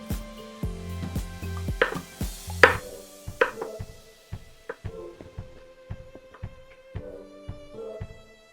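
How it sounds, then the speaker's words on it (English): A knife cuts parsley stems into thin sticks on a cutting board, with irregular close chops and taps, a few louder strikes early and then lighter cuts. "Get a stack of them sliced thin, and then just cut them at an angle"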